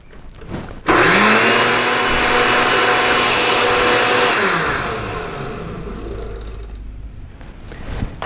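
A blender whirs almond butter into almond milk, starting abruptly after a brief pause, holding a loud steady motor roar for several seconds, then winding down and stopping near the end.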